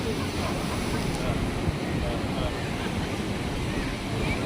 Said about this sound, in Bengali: অতুলনীয় সাগরের ঢেউ